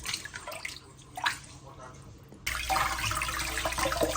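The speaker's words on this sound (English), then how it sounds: "This is how I'm going to keep washing it bit by bit until I only have shaft left in the sieve" Fufu dough is worked by hand through a sieve in a basin of water: soft splashes and drips at first, then a sudden steady gush of running water that continues to the end.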